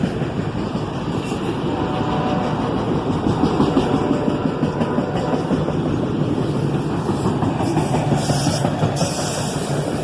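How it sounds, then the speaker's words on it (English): A CSX southbound auto-rack freight train led by ET44AH and ES44ACH locomotives, slowing for a signal, gives a constant loud rumble of engines and rolling cars with no break. "A southbound auto-rack train, led by an ET44AH and an ES44ACH, slowing down to obey that yellow signal."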